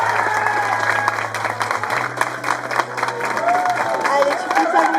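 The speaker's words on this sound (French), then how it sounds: "On applaudit très fort." An audience at a cosplay contest applauds a costumed contestant on stage, loud, dense clapping from a large crowd with some cheering, under a steady hum and occasional voices.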